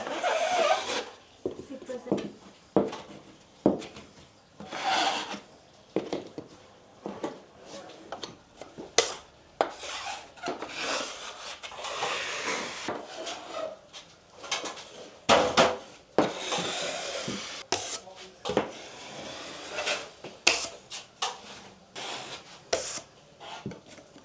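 A knife scrapes wet drywall mud off a bulkhead above a kitchen, heard as repeated short scraping and rubbing strokes with small knocks, close and fairly quiet, with no talk over it.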